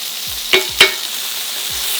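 Sirloin steak sizzles in a pan with bone marrow fat, a steady close frying hiss with two brief spattering pops and low scraping movements, without any talk.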